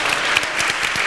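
An audience at a church evening event applauds its panelists with steady, loud clapping from many hands, which stays even throughout.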